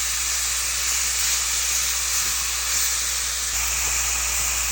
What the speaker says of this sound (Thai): เติมน้ำลงไป แล้วคั่วให้หมูมันสุก